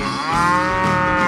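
A cartoon cow in a 3D animal sliding game lets out one long, loud, drawn-out moo with a strong harmonic tone, heard alone and close up.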